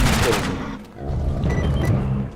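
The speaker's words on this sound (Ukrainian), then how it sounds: "Чувак, ти постріляй в нього" Gunfire in the video game STALKER, a rapid burst of shots up front followed by more scattered reports, heard under a voice talking.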